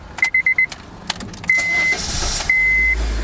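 A car engine being cranked with the key pushed in hard: a few short starter bursts, then longer whining cranking runs, the last catching into a steady running idle, loud and close with no talk.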